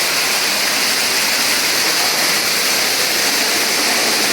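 A waterfall pours over a rock lip into a cave pit, producing a loud, constant roaring rush that fills the space without a break.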